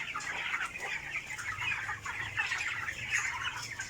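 Broiler chickens crowded in a Filipino farm house around 24 days old and about 1.5 kilograms, clucking and chattering continuously as a dense flock close by, with no talk.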